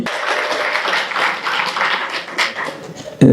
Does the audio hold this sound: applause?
yes